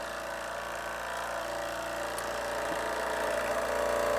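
A 1947 Tubo Products model steam engine, made in Pontypridd, South Wales, runs with a steady, fast mechanical chugging hum, close and even, slightly rising in level toward the end.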